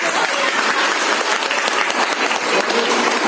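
A crowd at a panchayat samiti gathering gives loud applause to welcome the district chief, sustained, close clapping from many hands with a slightly uneven, pulsing texture throughout.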